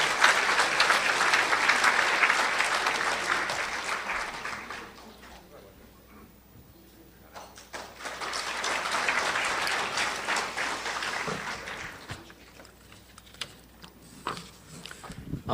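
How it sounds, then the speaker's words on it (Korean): An audience at a commemoration ceremony for the sixth anniversary of the October 4 inter-Korean summit declaration welcomes a speaker with two swelling bursts of applause, separated by a quieter lull. "여러분 힘찬 박수로 맞아주십시오."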